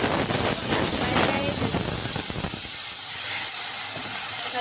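Water poured into a hot pan of frying eggplant for fish curry, giving a loud steady sizzling hiss with crackles that settles into a softer continuous steam.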